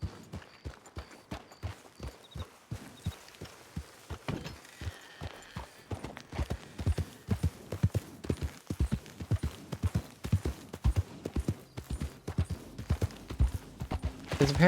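Horse hooves clip-clop in a video game roleplay, with a long run of crisp, evenly spaced hoofbeats that speed up and grow louder partway through, heard alone with no talk.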